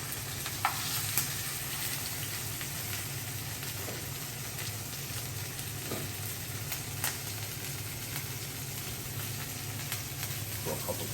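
Oil and butter sizzle steadily around a New York strip steak searing in a pan, a close, dense crackle with a few faint clinks and scrapes now and then.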